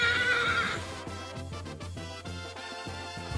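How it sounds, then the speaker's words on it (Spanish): A trained horse performing piaffe lets out a loud, close whinny at the start, followed by a series of soft, rhythmic hoof clops on the ground. "Ahí está haciendo un poquito de piafé el caballo."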